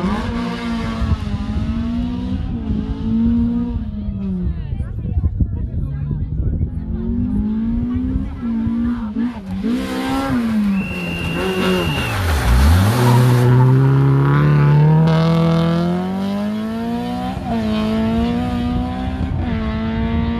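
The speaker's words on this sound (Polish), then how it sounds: "Honda Civic, ależ on przyciął przy tym ograniczniku." A Honda Civic rally car on a Rally Masters Świdnica stage revs hard and repeatedly bounces off its rev limiter, its engine note swooping up and down with a brief tyre squeal, loud and close under a commentator's voice.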